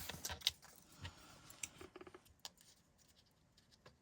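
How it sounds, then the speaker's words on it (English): Scissors fussy-cutting paper by hand at close range, with a few quick, crisp snips near the start followed by quieter, sparse clicks and rustles. "now let's fussy cut this one out"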